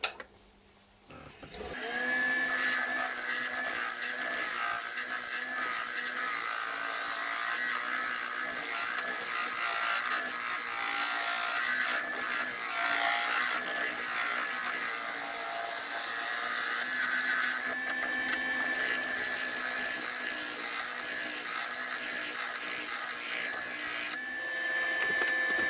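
A wood lathe spins an economy vase while a cutting tool blends a fresh ring into the previous one, giving a continuous loud whirring, scraping whine that holds steady for about twenty seconds before easing briefly near the end.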